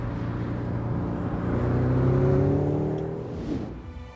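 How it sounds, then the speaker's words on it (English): Hyundai IONIQ 5 N electric car plays a simulated engine sound that climbs in pitch as it revs toward a limiter, swelling louder in the middle, then levels off and fades slightly, with no speech. "Even though it's not a real gear, it stops revving at some point, and then the car doesn't go any faster"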